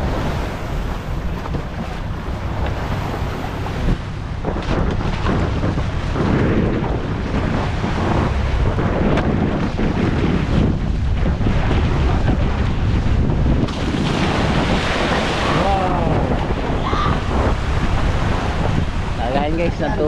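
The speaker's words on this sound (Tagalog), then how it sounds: "medyo lumalakas ang alon, pero okay pa rin, kaya pa rin" Rough sea surf washes continuously around a boat on the fourth day of a voyage off Mindanao, loud and steady under heavy wind buffeting on the microphone, building somewhat toward the end, with faint voices at times.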